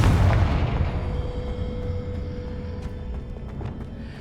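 A Confringo blasting spell from Hogwarts Legacy goes off as one loud, deep boom that rumbles at the start and then slowly fades into a lingering low roar, with faint crackles trailing behind.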